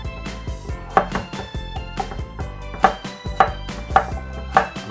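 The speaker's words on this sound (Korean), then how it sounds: "일단 이거를 제가 감자를 썰어 보겠습니다" A knife chops potatoes on a cutting board at home, delivering a steady run of crisp, close wooden knocks in quick uneven rhythm.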